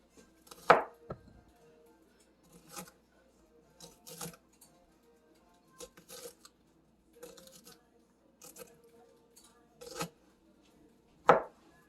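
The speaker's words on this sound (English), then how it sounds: "now cut it into, like, I don't know, thin slices like that" Knife slicing food into thin slices on a cutting board while preparing linguine Alfredo with shrimp and asparagus; a few sparse, sharp chops and taps spread out with pauses, two louder cuts near the start and end, no talk.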